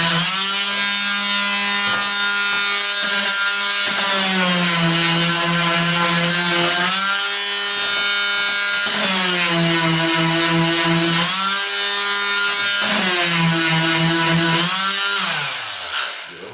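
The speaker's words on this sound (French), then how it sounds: "je repasse un petit coup de ponceuse vite là-dessus" A power sander whines loudly on a wooden beehive floor board, its pitch dipping and rising as pressure changes in repeated passes, then winding down at the end.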